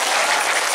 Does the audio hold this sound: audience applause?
yes